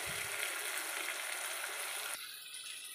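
Finely chopped onions fry with green chillies and a pinch of salt in hot oil, giving a dense continuous sizzle that drops slightly in intensity partway through, with no voices.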